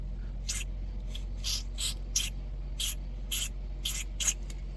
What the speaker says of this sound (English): I'm gonna spray this cable down pretty thoroughly with lithium grease